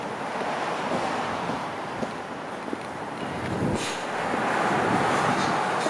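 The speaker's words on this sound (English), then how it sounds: "There's definitely wind out here." Wind buffets the microphone in rough, uneven gusts, a low rushing roar that swells louder toward the end.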